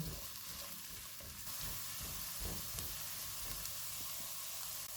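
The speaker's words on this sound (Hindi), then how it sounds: "इसमें एक छोटा सा प्याज डालेंगे। 1 टीस्पून चॉप किया हुआ लहसुन। चूल्हे को मीडियम लो रखेंगे, इनको 2 से 3 मिनट तक भूनेंगे।" Onion and garlic sizzle steadily in butter in a hot pan over medium-low heat, a continuous crackling fry with occasional soft stirring scrapes, close and fairly loud.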